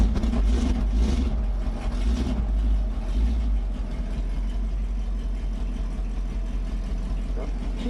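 Car engine with a Holley carburetor idling, a steady low rumble with a regular throb that stays close and even throughout, with a voice briefly audible near the start.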